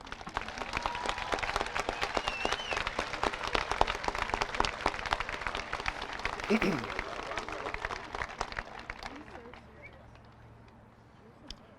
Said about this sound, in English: Please give all the teachers present a round of applause.